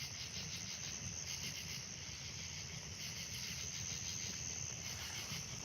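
Crickets chirp steadily at night beside an outdoor swimming pool, a dense, continuous trilling chorus that holds at an even, moderate level with no talk over it.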